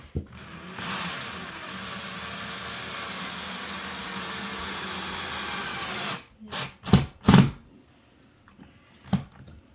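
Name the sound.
power drill driving screw into wall stud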